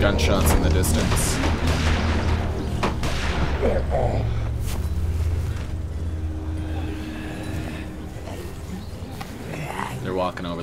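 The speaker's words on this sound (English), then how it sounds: "some gunshots in the distance." Distant gunfire in The Walking Dead Episode 1 video game, heard as scattered booming shots over a dense, noisy background, with someone talking over it.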